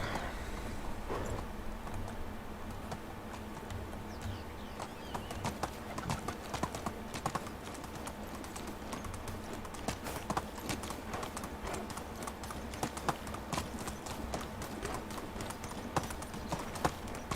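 Horse hooves clip-clop steadily in a medieval farming game, the rhythmic beats continuing throughout at moderate loudness over a light ambient background, with occasional brief speech.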